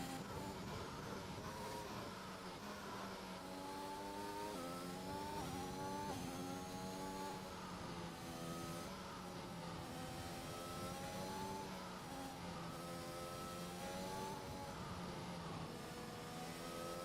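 A sim racing car engine droning steadily on a final lap in Japan, pitch rising and falling through gear changes and corners, continuous and moderately loud without talk.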